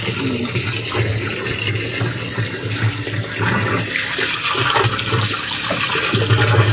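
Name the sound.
water pump pushing water out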